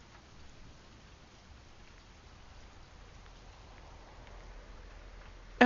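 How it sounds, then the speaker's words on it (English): Steady recorded rain hiss plays continuously at a moderate level over an indoor livestream, an even wash of falling drops with no voices and a brief louder bump at the very end. "The rain you hear, I am supplementing because I know that my mic is not strong enough to pick up the rain outside."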